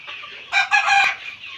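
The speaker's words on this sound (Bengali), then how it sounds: "হ্যাঁ, অনেকগুলো মুরগি আছে এখানে" Chickens on a farm letting out a loud, nasal, strained squawking call in two close bursts, near the microphone, with quieter clucking before and after and no voices.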